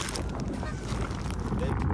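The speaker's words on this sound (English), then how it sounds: "So I'm about to go make sure my geese right." Geese honk over a dense, noisy outdoor background, their calls blending into a steady clamor.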